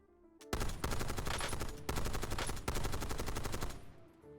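Rapid automatic gunfire in the video game Warzone, a dense, sustained burst of shots with a couple of short breaks, loud and close with no talking over it.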